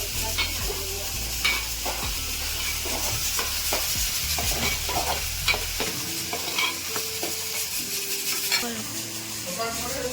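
Rice sizzles and hisses in a hot pan tempered with cumin while a spoon scrapes and clinks against the metal, with steady frying under repeated stirring knocks, close and moderately loud.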